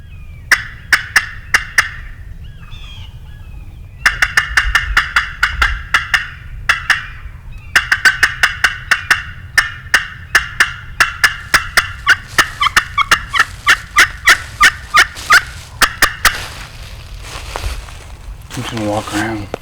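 Wild turkey gobbling on public land in Missouri during turkey season, repeated bursts at a moderate distance with outdoor ambience, voices talking in between.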